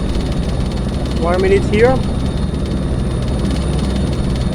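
A helicopter engine and rotor in a desktop flight simulator give a steady, loud droning hum throughout, while someone talks briefly over it.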